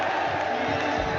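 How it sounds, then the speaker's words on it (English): A large esports crowd at a Valorant grand final roars in a dense, continuous wash of cheering and shouting, loud and steady throughout with no breaks. "The crowd erupting, begging for the ace."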